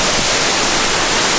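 Jungle waterfall at Rio Celeste park in Costa Rica, a loud, constant hiss of falling water filling the whole clip with no other sounds.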